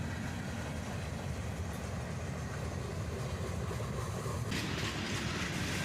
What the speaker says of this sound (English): And now a beat up old Conrail boxcar.